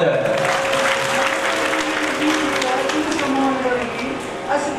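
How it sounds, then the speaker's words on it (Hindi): An audience at a Bhagwat Katha religious discourse in Darbhanga claps in steady, dense applause throughout, loud and continuous with a faint sustained tone and murmur beneath it. "जोरदार ताली हो जाए"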